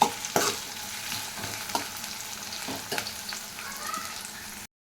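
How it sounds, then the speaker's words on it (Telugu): Onions and green chillies frying in oil in a kadai for boti fry, a steady close sizzle with repeated scraping stirs of a spoon against the pan, and no voices. "ఎర్రగడ్డలు మటుకు బాగా వేగిపోవాలండి."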